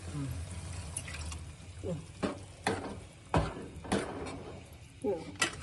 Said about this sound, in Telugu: నీళ్ళు పోసేస్తున్నా.